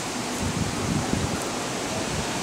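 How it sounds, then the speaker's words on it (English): Strong wind gusts of about 40 miles an hour roar steadily through trees before a storm in St. Cloud, Minnesota, as a loud, unbroken rushing noise with no break. "I would guess these gusts are probably around 40 miles an hour."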